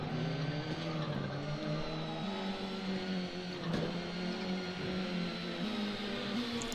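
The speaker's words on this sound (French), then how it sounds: "On gère bien le dérapage, voilà, comme ça." Rally car engine droning steadily with a sliding, skidding tone in the PS1 game Michelin Rally Masters: Race of Champions, a continuous mid-level hum with slight pitch shifts and a faint thump partway through.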